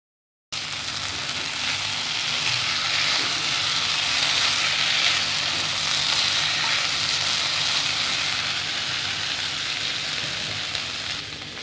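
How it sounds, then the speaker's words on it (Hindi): Schezwan chicken lollipops sizzle in a pan over high flame, a loud, steady, dense crackle that starts abruptly and holds evenly, with occasional stirring. "1 मिनट के लिए फ्लेम को हाई करके इन्हें हाई फ्लेम पर सिजल कर लेंगे।"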